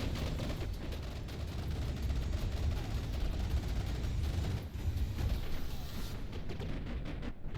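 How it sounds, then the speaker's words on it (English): A loud, sustained explosion rumble in the game From The Depths, with booming low end and crackling debris, like a cinematic blast, roaring continuously without any talk. "Another cinematic explosion."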